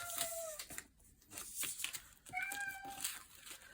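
A domestic cat indoors gives two rising, drawn-out meows separated by a pause, close to the mic and fairly quiet, with faint rustling around them.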